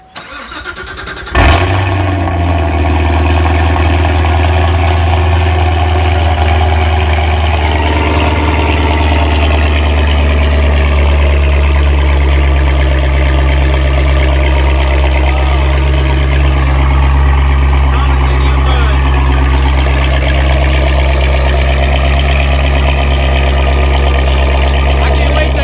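A 2017 Corvette C7 Z06 V8 fires up with an ARMYTRIX X-pipe valvetronic exhaust, valves open, then settles into a loud, steady, deep idle that fills the whole stretch, close by.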